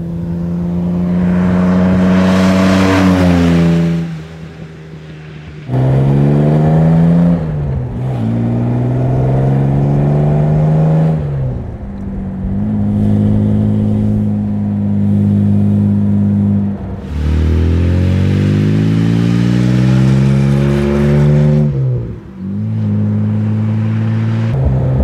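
A Jaguar SS 100 vintage sports car engine of over 200 horsepower revs up and down repeatedly through gear changes while driving, loud and close, with rising whines and brief drops between each pull.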